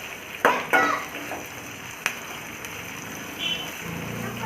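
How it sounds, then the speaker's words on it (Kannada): Onions frying in a pan for a dosa potato filling give a soft steady sizzle, broken early by two loud scrapes of a spatula and a sharp knock midway. Nobody speaks. "ಈರುಳ್ಳಿದು ಹಸಿ ಸ್ಮೆಲ್ ಹೋಗೋವರೆಗೂ, ಅದು ಕಲರ್ ಚೇಂಜ್ ಆಗೋವರೆಗೂ ನೀಟಾಗಿ ಫ್ರೈ ಮಾಡ್ಕೋಬೇಕು"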